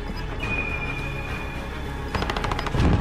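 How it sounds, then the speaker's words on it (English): Automatic sentry gun in the Modern Warfare video game fires a rapid, steady stream of rounds, loud and continuous amid the game's ambient sound, with a heavier burst of gunfire near the end. "sentry gun on"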